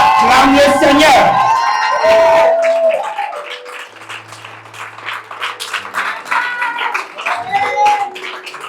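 A church congregation applauds and cheers to acclaim the Lord during a night vigil service, with loud clapping and whoops at first that fade into scattered claps and voices.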